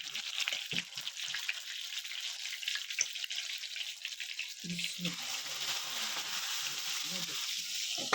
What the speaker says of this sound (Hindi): अब इसका हम तड़का लगाएंगे